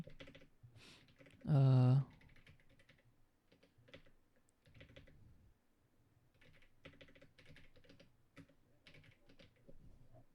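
Typing a note on a computer keyboard in a web application, with soft, irregular key clicks running through most of the stretch and a brief loud burst of another sound near the start.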